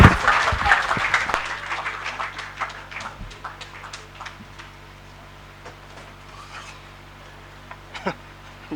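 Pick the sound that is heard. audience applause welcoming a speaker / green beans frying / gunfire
audience applause welcoming a speaker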